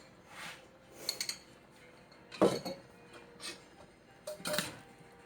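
A utensil stirs ingredients in a pan for a vegan Puerto Rican criolla dish with olives and capers, giving several close scraping clinks and taps in irregular bursts, with quiet gaps between them.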